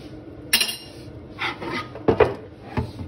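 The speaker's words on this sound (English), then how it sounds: "In this point, we can inverse the chopping board" A plastic or wooden chopping board on a kitchen counter is turned over during tomato prep, giving several short knocking clatters with brief scraping, close and fairly loud, no talking.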